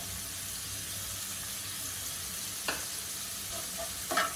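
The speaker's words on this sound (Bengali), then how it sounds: "এগুলো দিয়ে কিছুক্ষণ ভেজে নেব।" Garlic and ginger paste frying in a pan, a soft, steady sizzle heard close up, with a couple of brief scraping stirs near the end.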